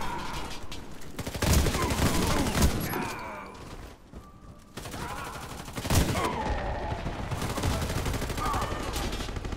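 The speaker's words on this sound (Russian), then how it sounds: "Граната пошла!" Bursts of gunfire and a grenade blast in the shooter game Warface, with sustained automatic fire and loud booming volleys around a short lull, while game voices call out over the combat.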